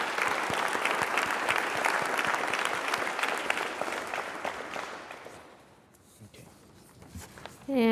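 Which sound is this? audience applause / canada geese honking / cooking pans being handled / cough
audience applause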